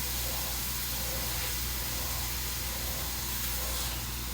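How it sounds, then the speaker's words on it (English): Butterflied meat sears in a hot pan, giving a steady, loud, broadband sizzle that holds constant throughout with no talk. "I'm going to sear that center part where they butterflied it"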